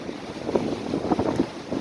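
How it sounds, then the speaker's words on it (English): Wind buffets the microphone outdoors in a steady rumbling gust with irregular low thumping swells, fairly close and without any speech over it. "I'm just gonna stop talking every time wind comes in"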